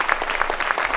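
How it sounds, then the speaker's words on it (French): A short, lively burst of audience clapping at a sports awards evening, close and fairly loud, with individual claps audible within the crowd. "Pourquoi ne pas applaudir deux premiers témoins?"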